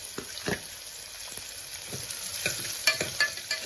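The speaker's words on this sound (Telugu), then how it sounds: "ఆవాలు, జీలకర్ర వేడెక్కిన తర్వాత ఉల్లిపాయలు వేస్తున్నానండి." Onions frying in hot oil with mustard seeds and cumin, a steady close sizzle broken by a few sharper crackles and spatters, louder toward the end, with no voices.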